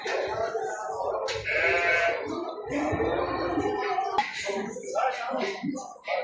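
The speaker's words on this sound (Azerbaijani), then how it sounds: "Borkaraman koyunları." Karaman breed sheep bleat at an outdoor livestock market, repeated loud, close bleats overlapping one another across the whole stretch, with some market talk mixed in.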